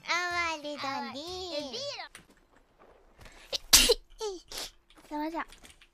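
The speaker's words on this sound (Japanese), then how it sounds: "待って、くしゃみ出る。" A sneeze bursts out sharply in the middle, preceded by a sustained high vocal sound and followed by short voiced sounds and a breath, all close and fairly quiet.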